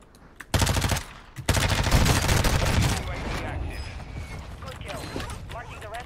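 Rapid bursts of video game gunfire from a solo versus duos shooter match, loud dense volleys in the first few seconds that thin into scattered, fainter shots alongside other game noise.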